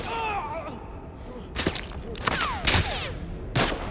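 Sharp pistol shots in The Last of Us survival mode, four or so separate cracks spaced unevenly over a few seconds, loud and close, with tonal game sounds trailing between them.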